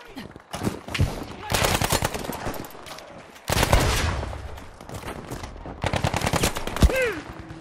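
Rapid automatic gunfire from a Battlefield 5 match, loud bursts of shots layered under excited swearing voices, with brief gaps and a final sharp report.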